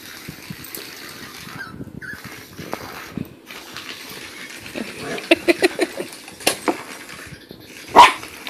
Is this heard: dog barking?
yes